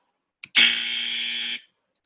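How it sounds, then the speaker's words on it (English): A loud electronic buzzer marks a point of information being raised in an online parliamentary debate, one steady harmonic tone lasting about a second after a brief click, heard alone with no talking. "the buzzer noise will be made when a point of information is being raised"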